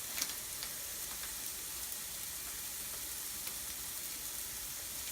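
Mushrooms sizzle steadily in a hot pan while being sautéed for a Parmesan sauce, a faint, even crackling hiss with occasional small pops and no voices.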